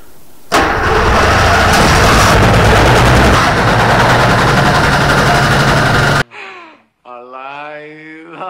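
A Challenger 2 ultralight airplane engine cranks and catches, then runs loud and steady for several seconds inside a hangar before cutting off abruptly, after which someone speaks excitedly.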